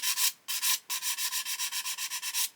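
A coarse sanding stick rubbed over a plastic seam on a 1/72 Airfix Lancaster model kit, close and distinct: two longer strokes, then a quick run of about a dozen short, even rasping strokes, with no talking.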